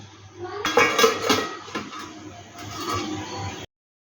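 A metal lid clatters onto a pot of chicken pieces set to boil for a hot and sour soup, a short burst of clinks and scrapes followed by a low steady rumble of the stove, close and fairly loud.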